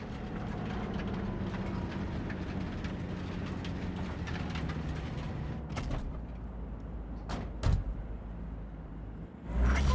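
A large train called the Basilisk in the video game Cyberpunk 2077, a steady heavy low rumble of engine and rolling noise running throughout, with a few sharp clanks near the end.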